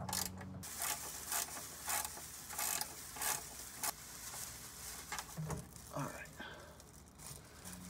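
A 15mm socket wrench ratchets on the oil drain plug of a 2015 Ford Mustang GT, a series of rhythmic, close clicking bursts with a few metallic knocks.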